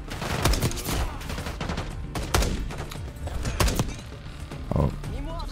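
Gunfire in the video game Call of Duty Black Ops 6, several sharp shots and short bursts scattered over a few seconds amid other game sounds, with people talking throughout.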